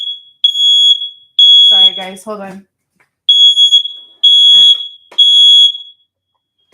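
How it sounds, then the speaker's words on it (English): An indoor fire alarm blares in loud, piercing high beeps, repeating in long bursts with short gaps, while a person speaks briefly between them. "I have a fire alarm in here."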